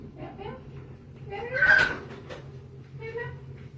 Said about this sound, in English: I'm gonna let the kitty cat in.